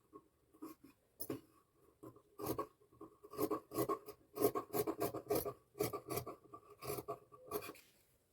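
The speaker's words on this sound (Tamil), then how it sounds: "இப்போ கரெக்டாக இந்த இடத்துல இருந்து இப்போ இதை குடஞ்சி கட் பண்ணிக்கிறேன்" Scissors cutting a curve in blouse fabric, quiet close-up rasping snips in a rapid irregular series, with a short pause near the start.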